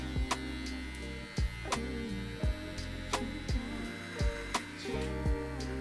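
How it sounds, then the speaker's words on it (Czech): An electric hair clipper runs during a barber-school haircut, taking hair down short. It gives a steady, close mechanical buzz with a rich harmonic hum, punctuated by regular soft clicking ticks. "Když vlastně budeš stříhat na jeden tah, tak ten strojek má určitý otáčky, nestíhá."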